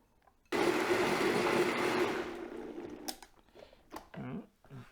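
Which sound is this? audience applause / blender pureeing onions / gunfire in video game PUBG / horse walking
blender pureeing onions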